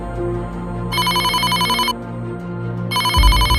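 A phone's electronic ringtone sounds in two loud bursts separated by a short pause, close and clear, with a low thump at the end.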